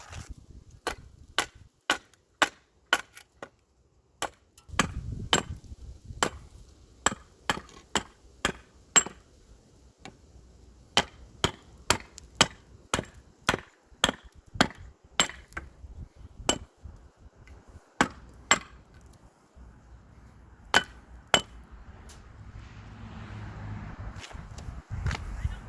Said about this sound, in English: to clean this up I'll just use my hatchet here.